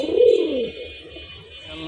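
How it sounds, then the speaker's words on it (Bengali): Gorra pigeons giving a single close, full coo that swells and fades, followed by quieter low murmuring. "2 পেয়ার গররা কবুতর।"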